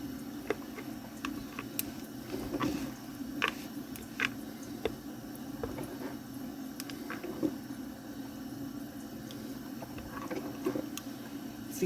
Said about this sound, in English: You can hear the coffee pot.